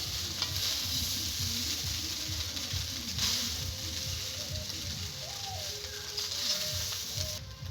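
Fried rice being stirred in a pan, sizzling steadily and close up with continuous scraping and crackle throughout.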